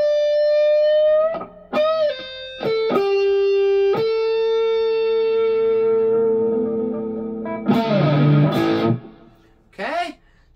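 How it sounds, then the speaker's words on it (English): Electric guitar with the neck humbucker split, ringing sustained notes and chords with bright upper tones, a few plucked stabs and a strummed burst near the end, clear and close through an amp. "Okay, so there's the neck pickup split."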